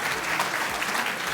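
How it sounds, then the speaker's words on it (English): Audience applause for quiz players at a Robot Framework conference Jeopardy game, a dense, steady wash of clapping from a crowd that fills the short moment without a break. "Let's give a big applause to our participants, our players."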